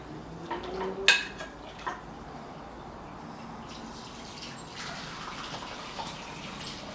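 Mutton stock flavoured with crushed garlic, ginger and onion is strained for white mutton pulao. Water trickles and splashes faintly, with a few close metallic clinks of the pot and strainer near the start.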